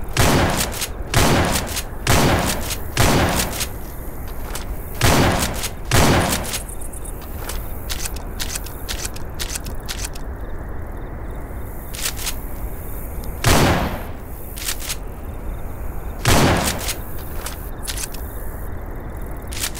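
Shotgun fire in Left 4 Dead 2 using alternate weapon audio, loud booming blasts repeated in irregular bursts, some in quick pairs and others spaced apart, close and dominant over a steady background rumble.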